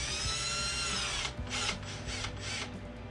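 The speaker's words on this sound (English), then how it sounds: "So I use my drill," A cordless power drill drives drywall screws while mounting a Mastercool MCP44 control switch, a steady close whining motor run with bursts of higher-pitched revving near the end, no talking.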